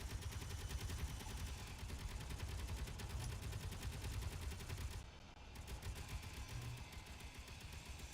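Rapid autocannon fire in a video game, a steady fast run of heavy shots lasting throughout, with a brief dip in the barrage near the end before it resumes.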